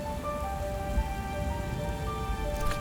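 Steady rain falls throughout the video game Book of Hours, an even, soft wash of patter with a faint tonal music bed beneath and a brief brighter shimmer near the end.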